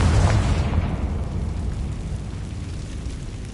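A Confringo spell blast in Hogwarts Legacy: one deep, loud boom at the start that rumbles and fades over a few seconds, heard alone.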